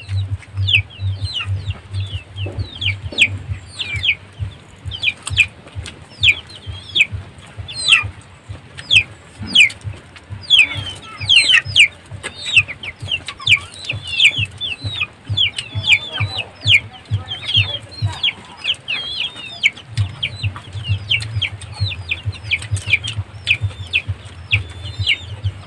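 Chickens cluck continuously in a busy flock, many overlapping calls near and far, with a low rumbling hum underneath.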